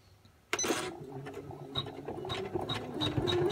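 An embroidery machine stitches the outline of a moon on fabric held in a hoop for an in-the-hoop patchwork piece. After a sudden start, a steady mechanical whir runs close by, with a repeating high ticking throughout.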